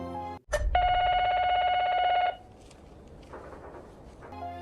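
A mobile phone left inside a cabin in a film rings with a loud, steady electronic tone for under two seconds, then cuts off, leaving quiet room noise.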